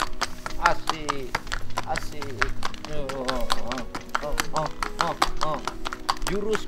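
A horse's hooves clip-clop in a quick, steady rhythm of sharp knocks while it is walked, heard close under people talking.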